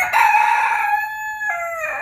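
A pet rooster crows once, loud and close, a long drawn-out call followed by a shorter second rise, with nothing else around it.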